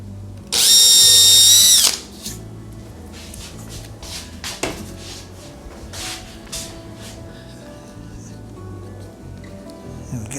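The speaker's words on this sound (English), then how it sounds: "the drill is slightly smaller, but pretty close to the size of the shank of the eyelet there." A power drill whines loudly for a little over a second as it bores a hole for an eyelet, followed by scattered clicks, taps and handling noises.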